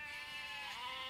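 Sustained, tonal sheep bleat in a children's cartoon, one continuous wavering cry heard alone at a faint level.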